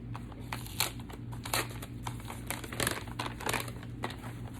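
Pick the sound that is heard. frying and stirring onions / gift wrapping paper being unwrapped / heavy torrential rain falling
gift wrapping paper being unwrapped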